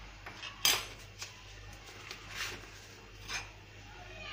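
A spoon taps and scrapes against a bowl while salt is added for pan-made pizza dough, giving one sharp clink followed by a few faint, light knocks.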